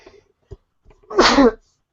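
A single loud sneeze close by, preceded by a few soft breaths and small mouth sounds.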